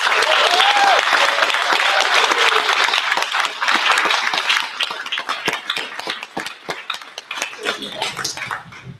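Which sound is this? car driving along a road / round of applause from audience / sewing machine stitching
round of applause from audience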